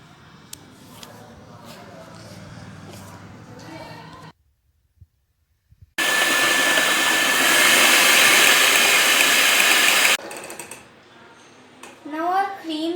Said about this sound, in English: Now we will take some high fat cream, add sugar to it and whisk it.